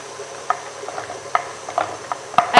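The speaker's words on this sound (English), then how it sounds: "I'm just chopping up my bar here with you" A knife chops a vegan chocolate bar on a board, giving scattered sharp clicks and taps at irregular intervals, close and fairly quiet, ending in a cluster of louder cuts.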